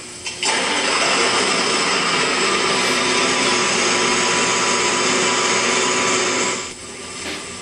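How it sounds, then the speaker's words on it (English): A four-row Douglas cotton picker's engine cranks, catches and runs at slow idle, a loud, steady, broadband mechanical roar that holds evenly for several seconds before cutting off sharply near the end. "Start the engine and operate it at slow idle."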